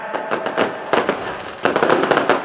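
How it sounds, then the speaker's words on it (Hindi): Fireworks burst at a Dussehra fair in Pali, a rapid run of sharp crackling pops and bangs, loud and close, coming in quick irregular clusters with no talk. "ये देखिए, आतिशबाजी का बहुत ही खूबसूरत नज़ारा आप यहाँ पर देख रहे हैं।"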